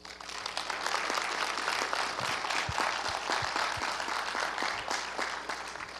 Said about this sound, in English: greet all of our candidates with a robust round of applause